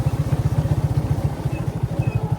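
A motorcycle is ridden off-road on a rain-soaked farm track, its engine a close, loud, rapid regular thumping pulse that stays steady throughout.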